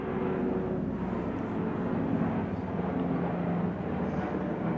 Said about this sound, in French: ce bruit d'hélice que j'entends d'hélicoptère de l'armée d'Israël